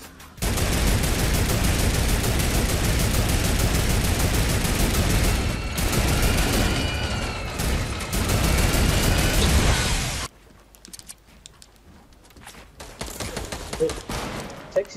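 Turret firing in a video game, a dense, loud, rapid stream of automatic gunfire sustained for about ten seconds with brief gaps, then dropping to scattered quieter shots and clatter, with voices talking over it.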